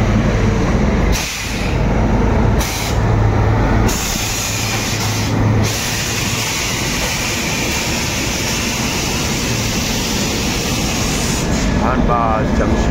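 A long train pulls out of Dhanbad Junction bound for Howrah, giving a loud, steady rushing rumble and hiss with a few brief drops in level, heard close up throughout.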